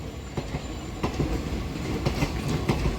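A passenger express train running on its tracks between Tirupati and Chikkamagaluru, heard close from on board as a steady rumble with repeated rhythmic clickety-clack wheel beats and faint squeal.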